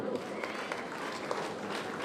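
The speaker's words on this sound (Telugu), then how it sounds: "ప్లీజ్ చప్పట్లు" A crowd claps steadily, dense and continuous applause filling the room with a faint voice mixed in.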